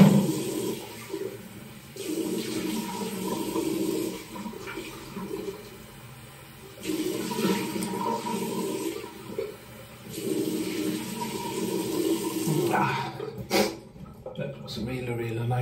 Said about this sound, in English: I'm gonna splash some cold water.